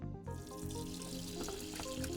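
A faucet runs for hand washing before arterial blood gas sampling, a steady splashing stream into a sink that begins abruptly after a brief moment of quiet and carries on evenly, with no talking.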